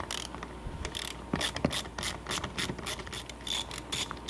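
A hand ratchet backs out an 8mm bolt from an F150 door panel, giving quick bursts of clicking pawl strokes in an uneven rhythm, fairly quiet and close.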